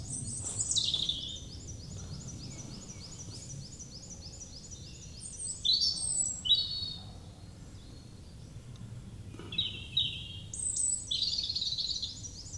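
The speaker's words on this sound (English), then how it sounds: "I love waking up just hearing the birds singing." Clear morning birdsong in woods rings out in a few separate bursts of chirps and trills over quiet low background rumble, moderately near.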